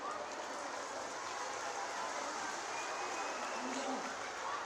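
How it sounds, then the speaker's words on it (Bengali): A large crowd at a Mamata Banerjee political rally in Howrah claps in a dense, continuous roar of applause that holds steady throughout, sounding like rain, with no clear speech on top. "একটা হাততালি দিন।"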